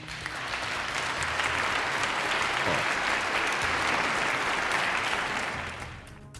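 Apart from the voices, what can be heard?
audience applause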